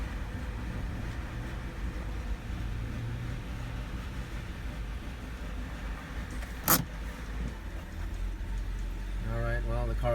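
A 2008 BMW 328i E92 idles after a starter replacement, a low steady engine rumble throughout with a sharp click or clank partway, and a voice talking near the end.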